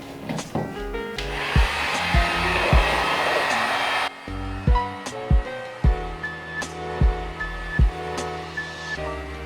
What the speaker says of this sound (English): I'm actually going to hit the trunk panel and the inside of the spoiler with a heat gun really quick just to improve adhesive properties